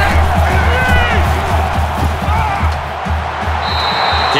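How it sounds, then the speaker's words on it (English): A stadium crowd roars steadily through a simulated Michigan vs Purdue college football video game. The loud, dense noise includes scattered cheers and thumps, and faint commentary voices can be heard beneath it. "The crowd is always into it here."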